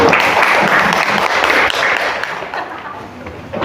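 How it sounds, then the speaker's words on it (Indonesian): Audience applause during a teacher training session, a steady wash of many hands clapping, loud and close at first, then gradually thinning out toward the end. "Silakan kasih aplaus."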